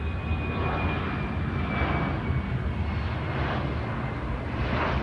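An old kukuruznik biplane with a smoking engine comes in to land, its engine a steady, broad droning roar at moderate distance, continuous throughout with no talk.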